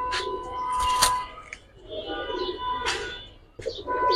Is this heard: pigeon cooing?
yes